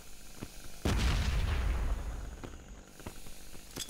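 Toxic grenade exploding in a multiplayer shooter video game, a single loud boom that lingers about a second, followed by quieter gunfire pops.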